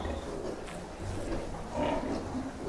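Month-old piglets squealing and grunting in a warm pen under heat lamps on a farm, a steady, busy chorus of overlapping animal calls at close range with no talk.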